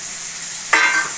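Onion and tomato fry in a pan for mutton kasha; after a quiet stretch, ginger-garlic-onion paste hits the hot oil with a sudden loud sizzle that keeps crackling steadily to the end.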